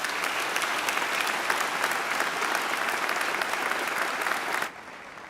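Sustained, dense audience applause fills the room at a steady loud level, then cuts off abruptly near the end, leaving a quieter tail.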